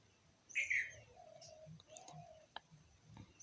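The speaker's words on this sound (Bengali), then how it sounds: "আশা করি শুনতে পাচ্ছ পাখির ডাক।" Birds chirp outdoors around a home, a few short tweets and brief calls, one clearer trill early on, faint against quiet background noise with no talking.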